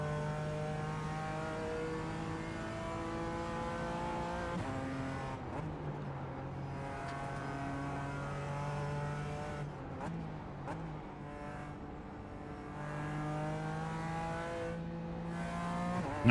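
Race car engine droning at low revs in sixth gear on the Nürburgring during testing, a steady close-up in-car hum with shifting pitch and brief dips around gear or throttle changes, heard without talk.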